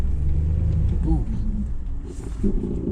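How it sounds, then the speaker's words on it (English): A stuck car's engine revs hard as its back wheels spin and dig in, a loud continuous rumbling roar that dips and surges again near the end. "Back wheels are caught and I'm digging in again."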